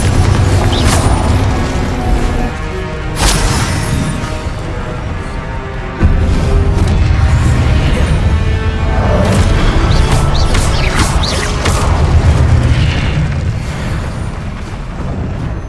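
Repeated booming spell explosions from the Confringo spell in Hogwarts Legacy, loud and dense, layered with crashes, whooshes and impacts throughout the fight.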